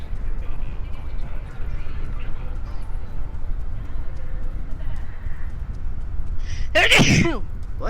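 A sharp sneeze in Cyberpunk 2077 bursts out near the end, loud and close, over a steady street hubbub of background chatter and noise.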